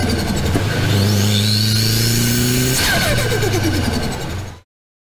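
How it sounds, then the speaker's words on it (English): A turbocharged car engine revs loudly with rising and falling whine, steady and close throughout, ending with a sharp cutoff near the end where a blow-off valve whoosh would sit. "this blow-off is also responsible for a very distinctive sound in the turbocharger system"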